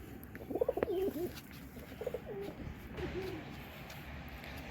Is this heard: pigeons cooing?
yes